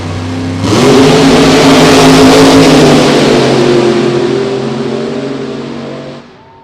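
Funny Car drag racers launch down the strip with a sudden, very loud, blaring engine roar that swells in at once, holds heavy and sustained, then fades as the cars pull away.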